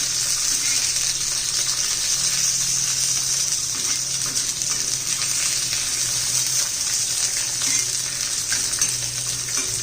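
Cluster beans frying in oil give off a steady, loud hissing sizzle up close, broad and unbroken for the full ten seconds, with faint stirring beneath and no talking.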